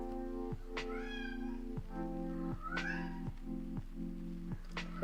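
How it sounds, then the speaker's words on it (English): A house cat meows repeatedly in the background, four or five drawn-out rising-and-falling cries at a steady pace over a constant low hum, with no talking. "My cat is meowing in the background."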